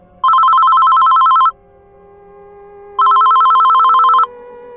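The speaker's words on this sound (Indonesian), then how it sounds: "Tiba-tiba, telepon meja berdering." A desk telephone rings twice in long electronic trills, each burst lasting over a second with a pause between, loud and close in a quiet room.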